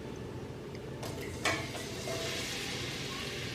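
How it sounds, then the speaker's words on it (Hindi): Two medium onions fry in half a cup of hot cooking oil for mutton biryani, giving a soft, steady sizzle with a brief scrape of stirring midway. "प्याज को ब्राउन कर लेना है"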